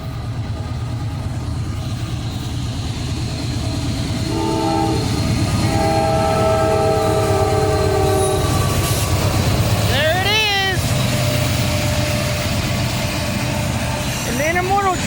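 Two Norfolk Southern locomotives haul an intermodal train past a railroad crossing, a loud steady rumble of engines and wagons with long blasts of the horn partway through, near and continuous.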